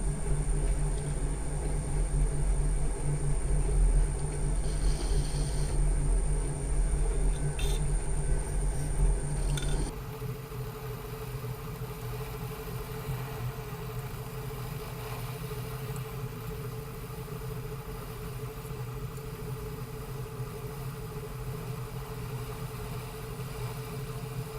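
An Atlas 10-inch lathe cuts 1.25-inch steel stock at a heavy 50-thou depth, a loud, rumbling mechanical drone with a steady whine that drops abruptly partway through to a quieter, steady hum.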